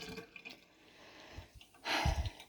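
Water drains from an unplugged sink in a compact cell caravan, a soft trickle that builds into a louder gurgling rush near the end, close by with no voices.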